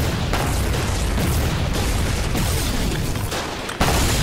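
Mortar shells from the game Foxhole land in a steady, dense barrage of booming, crackling explosions at mid distance, with a sharper blast near the end and no speech.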